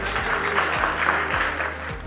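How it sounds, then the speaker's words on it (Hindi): A crowd at a health event in Jaipur gives loud, dense applause, a continuous wash of clapping heard up close, with a low rhythmic hum underneath. "राहुल देव सर के लिए जोरदार तालियां हो जाए यार"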